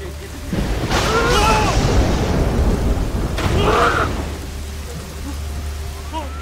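A lightning strike and rolling thunder in a horror film, with two broad, loud rumbling bursts over steady rain. A narrator's voice runs beneath and between the rumbles.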